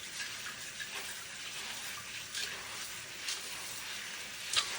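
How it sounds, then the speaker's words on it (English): Running water hisses steadily while coriander seeds are washed, a continuous close splashing rush with small swirls and a brief louder splash near the end, no voices. "Wash them for a few minutes and let it sit to dry."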